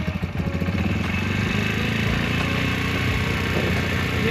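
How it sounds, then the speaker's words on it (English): A motorcycle engine idles high while warming up on choke, a steady, dense mechanical drone that holds even and close throughout with no talk over it. "Hear how the engine's driving high? That's okay, you're not hurting anything. It needs to do that to warm up."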